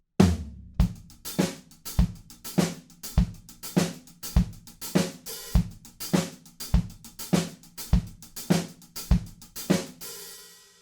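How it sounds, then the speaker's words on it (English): A steady drum groove at moderate tempo, regular kick and snare hits under a busy, even 16th-note hi-hat pattern, played alone and clearly close up. "it's based on a 16th note hi-hat pattern"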